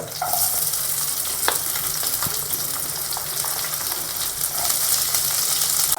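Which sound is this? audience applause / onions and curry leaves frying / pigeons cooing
onions and curry leaves frying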